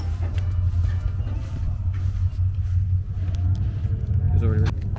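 A roll-racing car's engine idles while warming up, a deep, steady, close rumble with slight rises in revs, and people talk nearby over it.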